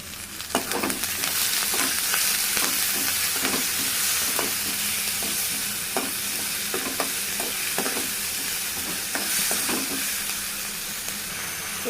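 Onion and green chilli fry in oil in a pan with a steady, close sizzle and hiss, while a spoon scrapes and taps against the pan in irregular strokes throughout, with no speech.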